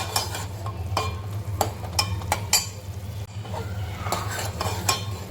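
A spoon stirring dal in a pot on the stove as it comes to a boil, with a series of sharp scraping and clinking strokes over a low steady hum.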